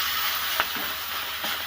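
Chopped tomatoes dropped into a pan of frying drumstick leaves, steady hissing sizzle throughout with a couple of soft stirring knocks.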